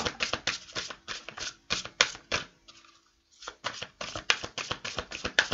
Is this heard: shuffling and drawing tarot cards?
yes